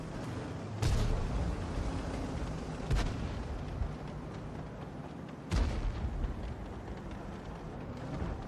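Tank cannon shots in World of Tanks, three sharp loud bursts spaced a few seconds apart over a steady rumbling battle ambience.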